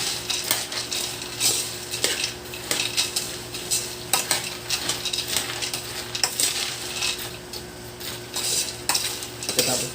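Seasoned peanuts are stirred in a pan, with repeated scraping and clinking of a utensil against metal over a faint sizzle, close and fairly quiet.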